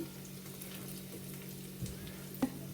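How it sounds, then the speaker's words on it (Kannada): Brinjal pieces sizzling and frying in a pan for avarekaal sambar, a steady soft crackle with a couple of faint stirring clicks, no talking. "ಬದನೆಕಾಯಿ ಹಾಕಿದ ಮೇಲೆ ಇದಕ್ಕೆ 2 ನಿಮಿಷ ಫ್ರೈ ಆಗೋದಕ್ಕೆ ಬಿಡೋಣ."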